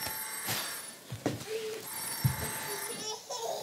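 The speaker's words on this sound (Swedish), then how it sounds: "Vem är det som har telefonen på i klassrummet?" A telephone rings in a classroom, sounding in short repeated bursts at moderate distance while children and an adult talk around it.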